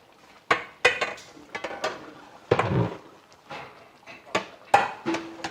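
A large pot of mutton biryani opened and stirred: sharp metallic clanks of a lid and ladle against the pot, about a dozen irregular knocks and scrapes with quiet gaps between them.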